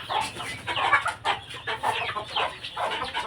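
Young pullets, three of them and likely all hens, cluck and peep in a steady busy chatter, fairly close, with overlapping soft calls throughout.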